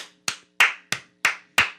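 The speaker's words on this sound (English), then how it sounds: "We got any applause, Mr. Producer?" Six slow, sharp hand claps from one or two people in a studio, evenly spaced and isolated against a faint background hum, sounding like sparse, almost mocking applause.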